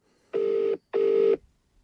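Two identical telephone tones, each about half a second long with a short gap between them, loud and clean against silence, with no talk.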